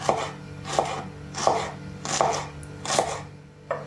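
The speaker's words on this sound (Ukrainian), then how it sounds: "4 великі цибулі, або ось такі 8, як у мене, розрізаємо і нарізаємо дрібною соломкою" A knife chops onions into thin strips on a board for a zucchini winter salad, five distinct crisp chopping bursts spaced at a steady rhythm, close and clear with no talk.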